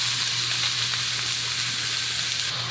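Onion sizzles loudly in hot oil alongside a toasted cinnamon stick and black cardamom, a dense continuous frying hiss with a low hum beneath and faint stirring, no talking.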